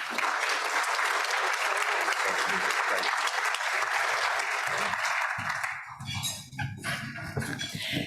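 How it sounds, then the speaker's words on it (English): Sustained applause from a crowd at a Rotary club meeting fills the clip, steady and dense, thinning slightly near the end as a few voices and a dog's barks poke through. "Please join me in giving a round of applause to Cancer Care Services"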